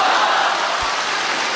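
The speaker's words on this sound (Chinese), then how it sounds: "鼓掌。" A theater audience at a Chinese crosstalk comedy show claps steadily in dense, even applause that fills the room for the whole moment, loud and continuous, without talking over it.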